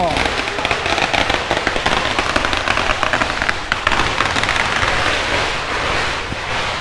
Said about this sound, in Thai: เขาจะจุดประทดไอ้ประทัด จุดประทัดกันนะครับ